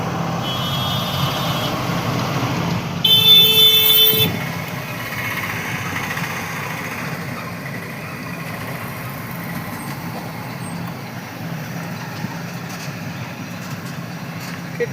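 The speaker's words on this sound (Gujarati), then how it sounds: "बहुत हेवी ट्राफिक થઈ ગઈ છે ભાઈ" Heavy traffic jam at the Kopta railway crossing, with truck, bus and car engines idling in a steady low rumble throughout; a brief louder horn-like burst rises midway, with faint voices in the background.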